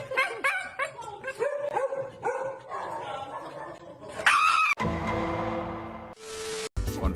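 Koromaru the dog from Persona 3, voiced with stock dog sound effects: a quick series of sharp barks and yips, then a growl and whimpering sounds, loud and close with brief gaps between.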